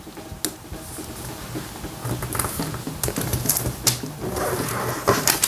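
Origami paper being folded and creased by hand for a magic card, heard up close as a string of crisp crinkles and sharp taps that grow busier toward the end.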